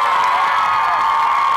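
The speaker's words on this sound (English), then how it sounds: "I need to hear y'all clap so loud" Brief burst of crowd cheering and clapping at a WNBA All-Star event in Chicago, loud and dense for a moment with whoops blended into the roar.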